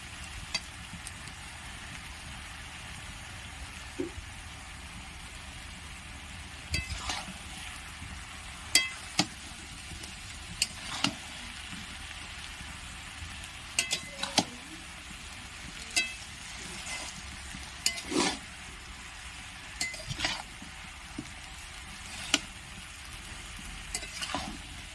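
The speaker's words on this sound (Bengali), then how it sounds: "ঢাকাটা আরেকবার খুলে আরেকবার আমি নেড়ে দেবো এভাবে" A ladle stirs mixed vegetable labra curry with fish head in a pot, giving irregular scrapes and clinks against the metal over a soft, steady sizzle, with no one talking.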